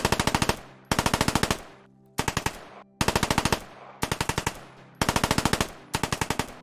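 Type 100-44 submachine gun, the crude 1944-pattern Japanese weapon locked to full auto, fires in Squad 44 in a Pacific setting: seven loud, rapid bursts in close succession, each a quick rattling string of shots with short pauses between.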